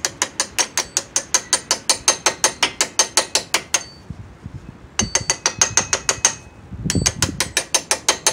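Rapid metallic clicking rattles in a fast, even series of sharp ticks while a brake part is fitted onto an M37 rotor, pausing briefly twice before resuming, close and fairly loud with no voices.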